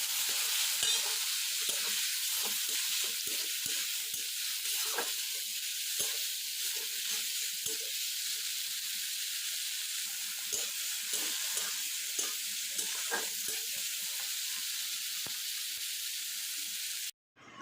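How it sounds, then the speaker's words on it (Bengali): Prawns fry in hot oil in a wok, giving a steady crackling sizzle with frequent spattering pops and occasional stirring scrapes, close and even for the whole stretch before a sudden stop. "এবার ওই তেলের মধ্যে আমি চিংড়ি মাছগুলো ভেজে নিচ্ছি।"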